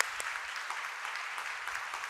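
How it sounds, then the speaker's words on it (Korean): A church congregation at a Friday worship gathering claps together in steady, moderately distant applause, a continuous wash of many hands. "우리 그 살아계신 하나님께 영광의 박수 올리도록 하겠습니다."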